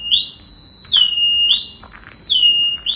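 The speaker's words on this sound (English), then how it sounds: "we've just connected the battery and that's the alarm going off" An Opel Manta's car alarm goes off right after the battery is connected, a loud, piercing electronic tone that sweeps and repeats in steady cycles, close up, with no talking.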